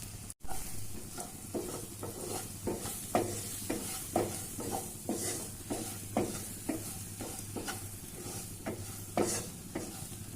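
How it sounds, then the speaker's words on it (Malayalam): A pan of leafy colocasia stir-fry with turmeric is stirred over and over, each scrape of the spoon landing in a steady rhythm above a soft constant sizzle, close and clear with no talking. "നമുക്ക് ആവശ്യത്തിന് മഞ്ഞൾപ്പൊടി ചേർത്ത് ഇളക്കാം."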